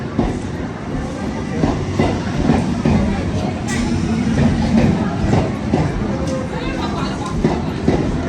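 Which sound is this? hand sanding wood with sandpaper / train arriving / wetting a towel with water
train arriving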